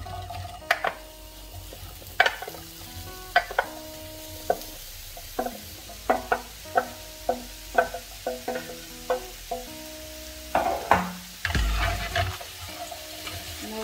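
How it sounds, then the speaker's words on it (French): Apples and sugar being stirred in a hot pan for a beginner's ice-cream crumble, with a utensil scraping in a steady run of distinct strokes over a soft sizzle, close and alone with no talking. "Je mélange de sorte à ce que le sucre et les pommes se mélangent bien."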